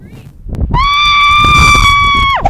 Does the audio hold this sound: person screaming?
yes